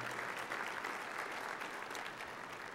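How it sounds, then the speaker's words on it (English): A roomful of people clapping for themselves at an Indiana pro-life award event, a brief, even wash of applause heard somewhat distant and fairly quiet, with no speech over it. "please give yourselves a round of applause for being here and making that stand"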